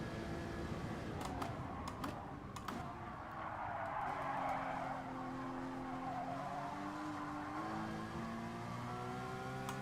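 Race car tyres skid and squeal in GT Sport, a long scrubbing screech layered over a steady engine drone. The sound holds fairly loud and constant for about ten seconds.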